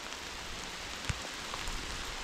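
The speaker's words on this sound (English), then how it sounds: "Is once again starting to rain heavily." Heavy rain falls outdoors along the Camel Trail to Wenfordbridge. The downpour is a dense, steady hiss with one sharp tap partway through, and no one speaks.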